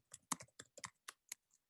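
Light, quiet keystrokes on a computer keyboard, a quick irregular burst of about ten clicks close by, no talking.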